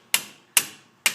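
A hammer pounds a brake part on a Jeep Grand Cherokee, three sharp, close metallic strikes about half a second apart, with no one talking.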